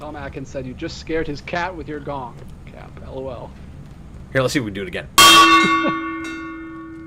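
A hand-rung gong struck once near the end, a loud metallic crash that blooms and rings on with a long shimmering decay, following a stretch of someone talking.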